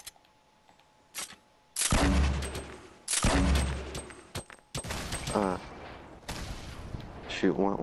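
Bursts of video-game gunfire, several loud rapid volleys separated by short pauses, close and sharp, with quieter clicks and shots trailing off between them.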